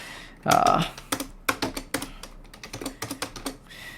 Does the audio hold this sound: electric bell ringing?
no